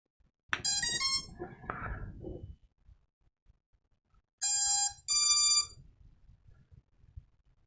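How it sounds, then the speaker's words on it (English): Electronic beeps from an Armattan Chameleon drone: a quick run of three short ESC tones, a pause, then two longer, louder flight controller beeps, close and clear against near silence. "So 3 ESC beeps and the flight controller beeps."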